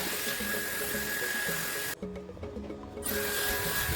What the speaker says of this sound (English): let's start the dryer. I have my Dyson.